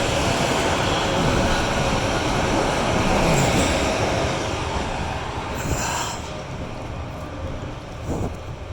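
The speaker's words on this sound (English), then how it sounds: "They got the tram coming here." A tram rolls past close by on a street in Sofia, Bulgaria, with a loud, steady rumble of wheels on rails and metallic squeals. The sound slowly fades as it moves away, leaving a busy street behind it.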